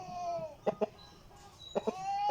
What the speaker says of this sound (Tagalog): Malaking manok to.